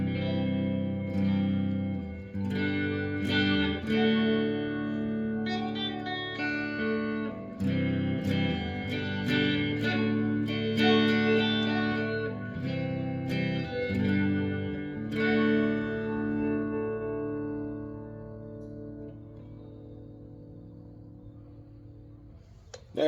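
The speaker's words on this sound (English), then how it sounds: "playing through the 68 reissue Fender Twin reverb" A Gibson Les Paul electric guitar plays through a 68 reissue Fender Twin Reverb amplifier, ringing chords and picked notes with reverb and echo carrying on for over twenty seconds before fading out.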